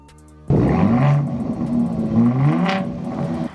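A truck engine starts and revs hard, a loud close rumbling roar that rises and falls in a couple of throttle blips and then holds steady, with no talking.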